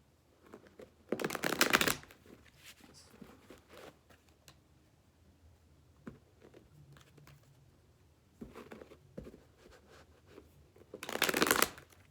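Tarot cards shuffled in two loud riffling bursts near the start and end, with quieter card handling and faint rustles between, close to the microphone and without talk.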